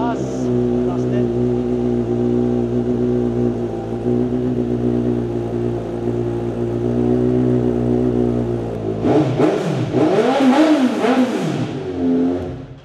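A big bike motorcycle with about 5,500 km on the odometer runs loud and steady for several seconds, then revs up and down in rising and falling bursts, with people speaking over parts of it.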